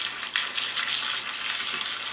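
Near-boiling water poured and dumped out of a pot while canning peaches at home, a steady broad rushing splash running for about two seconds, close and fairly loud.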